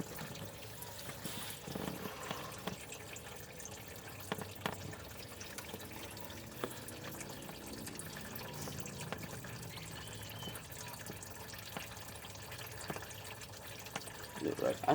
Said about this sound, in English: There goes all my coolant.